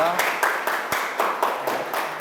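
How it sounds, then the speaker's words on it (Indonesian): A university class claps for a student group, with rhythmic, fairly close clapping from a modest group of hands over a couple of seconds. "Ya, tepuk tangan dulu untuk kelompok 2."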